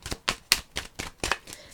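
A deck of tarot cards being shuffled by hand, with six or seven crisp riffling bursts in a quick, even rhythm, close and clear.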